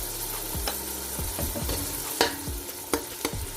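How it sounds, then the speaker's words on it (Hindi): Garlic ginger paste frying with tomatoes in a pan, a steady close sizzle broken by a series of sharp scraping stirs from a spoon against the pan, with no talking. "और इसको हम अच्छे से भून लेंगे ताकि इसकी स्मेल सारी ख़त्म हो जाए"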